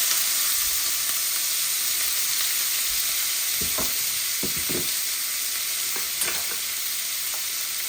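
Tilapia fish frying in a pan with onions just added, a steady loud sizzle and hiss throughout with a few soft stirring scrapes and clicks near the middle.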